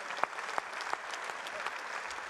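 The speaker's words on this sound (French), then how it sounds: "Tonnerre d'applaudissements" A studio audience at a televised economics debate claps steadily, a dense even patter with a few sharper individual claps near the start.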